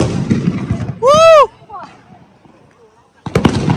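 Diwali firecrackers burst outdoors with loud pops and crackles, then a whistling rocket-like shriek rises and falls; people chatter and laugh throughout.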